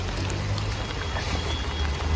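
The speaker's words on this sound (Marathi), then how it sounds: "पाऊस तर जाम लागले." Heavy rain pours steadily outdoors on a visit to a hilltop temple, a dense, continuous hiss of drops drumming on surfaces with a low rumble, close and unbroken, no voices.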